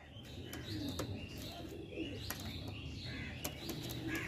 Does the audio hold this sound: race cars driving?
no